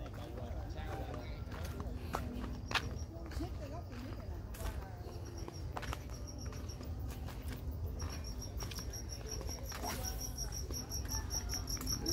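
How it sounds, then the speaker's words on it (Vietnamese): Crickets chirp steadily in an outdoor fishing spot on a morning, a continuous high trill with scattered clicks and rustles, and someone speaks faintly nearby. "đang câu cá mà có dế, dế gáy dữ nè"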